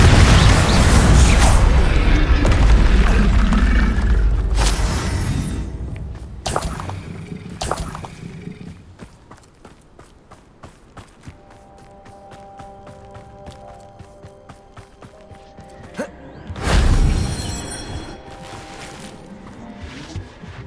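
A Bombarda spell explodes in Hogwarts Legacy, a deep booming blast up front, then scattered pops and magical shimmer, and a second loud burst near the end over a faint musical bed.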